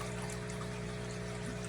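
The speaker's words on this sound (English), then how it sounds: "Got my hose going, and I'm just gonna fill this up with tap water" Garden hose running tap water into a tote, a steady, continuous rushing stream of water with no pauses or voices.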